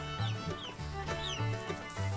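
Chickens cluck in short, repeated bursts, close by, with a steady low murmur of fowl underneath and no talking.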